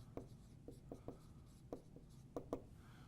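A sketch outline is written on a classroom board in faint, close taps and short strokes at an uneven pace, quiet over a low room hum.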